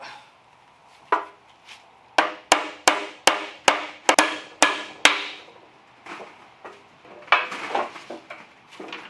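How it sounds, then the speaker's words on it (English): A series of sharp hammer blows in a quick run, about a dozen strikes, then a few scattered knocks and clatter afterward. "Wish you guys could hammer this for me."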